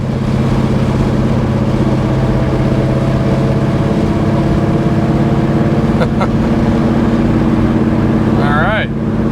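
A 1971 Chevy Nova's engine drones steadily and loud while the car is driven, a constant low rumble filling the whole stretch with a faint high squeal near the end.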